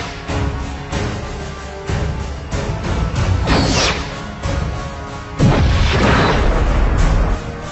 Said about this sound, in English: the Romulans are firing a plasma torpedo